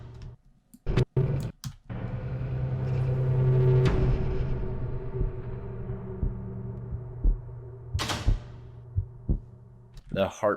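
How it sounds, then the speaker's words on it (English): A heartbeat sound effect from a horror sound pack, low thumping beats under a sustained hum, with sharp clicks and a few scattered transients nearby. "The heartbeats don't sound too good after the elevator part"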